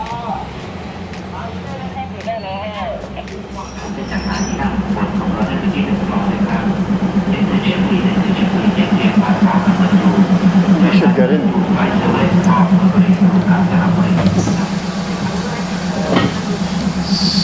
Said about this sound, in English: So here we are in the train on the way to Bangkok.